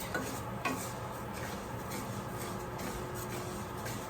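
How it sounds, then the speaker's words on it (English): Spanish rice being stirred in a pan so it won't burn: continuous scraping and rustling of a utensil through the grains over a soft sizzle, with a few light clinks, close and fairly quiet, no voices. "So let me stir this so it doesn't burn"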